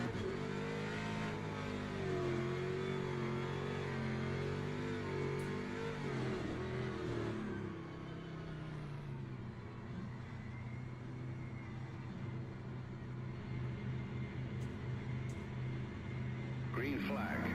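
LMP2 and hypercar race cars at Interlagos in a racing video game, engines droning and revving continuously with pitch shifts as they accelerate, heard under a person talking.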